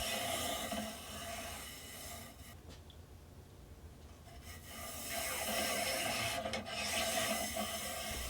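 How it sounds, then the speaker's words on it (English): A solvent-soaked brush scrubs inside a rifle bore, producing faint, close swishing and rubbing strokes that ease off midway and then return. "I'll dip a brush in solvent and run it down the bore a few times."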